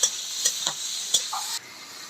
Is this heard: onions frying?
yes